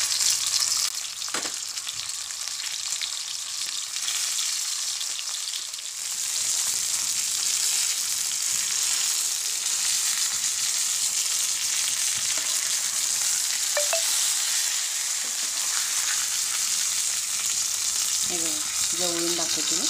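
Pomfret fish frying in hot oil, a steady close sizzle with continuous crackle throughout, slightly quieter in the opening seconds, with a few light clinks near the end.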